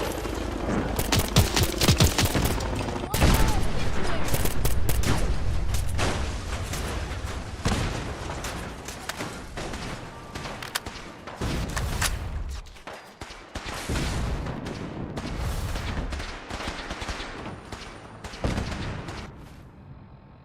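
Loud, sustained bursts of rapid gunfire in Fallout 4 on a modded PC, with heavy booming shots and explosions that come in waves, then thin out and return after a short lull.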